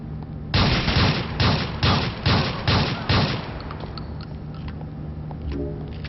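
Repeated bursts of gunfire in GTA IV, about six loud, closely spaced volleys in a steady rhythm, then fading to a quieter background with a faint tone near the end.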